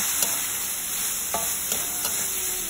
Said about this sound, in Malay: So kita goreng dia hingga bawang ni layu